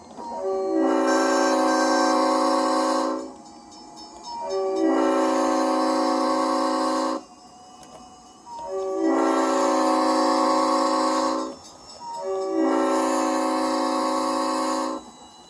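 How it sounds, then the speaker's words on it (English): An RS5T diesel locomotive horn fitted to a model tram blows four long, loud chime blasts of about two to three seconds each, separated by short gaps, with no talking over it. "Yeah, so that's an RS5T horn, for those of you who don't know."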